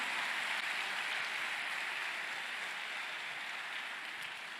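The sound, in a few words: audience applauding in a church service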